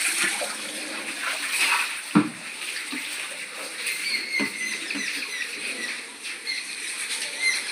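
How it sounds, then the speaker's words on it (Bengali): Water splashes and pours in uneven bursts as mud is rinsed off outdoors on a rainy day, with close gurgling and trickling throughout. "চিনিটা একদম ধুয়ে দিই নালে চিনিটা কাদা কাদা হয়ে গেছে"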